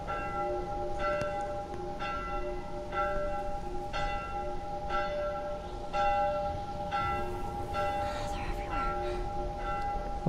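A church bell tolls in The Last of Us video game, striking steadily about once per second for the whole stretch, each ring resonant and clear over a low ambient background.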